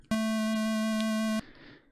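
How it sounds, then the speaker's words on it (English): NES square wave channel tone for Ninja Gaiden music: a single steady buzzy chiptune note held just over a second, bright and loud, starting and stopping sharply. "Square is like a square sounds like this,"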